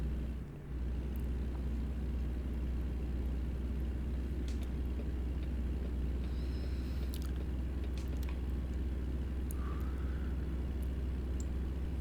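A truck engine drones steadily while driving in the video game American Truck Simulator, a continuous low rumble that stays even and unbroken throughout, with no voices.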